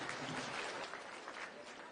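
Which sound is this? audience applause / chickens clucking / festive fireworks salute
audience applause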